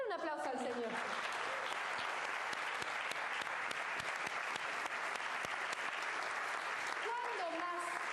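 Sustained, dense applause from a church congregation at a Spanish-language service, loud and continuous throughout, with a voice speaking or singing over it at the start and end.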